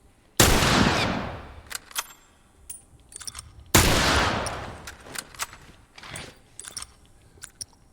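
Two loud, sharp gunshots from The Last of Us, each decaying into a long echoing tail, followed by quieter mechanical clicks and clacks of reloading between and after the shots.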